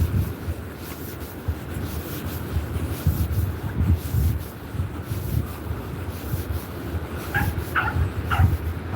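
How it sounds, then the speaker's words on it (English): A dog gives a few short yips and whimpers while out on a walk along a cliff and promenade, faint and set against steady wind and outdoor rumble, with the clearest high cries near the end. "I can hear another dog somewhere."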